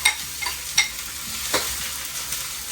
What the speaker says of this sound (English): You might hear some sizzling.